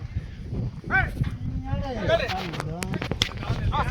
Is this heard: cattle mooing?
yes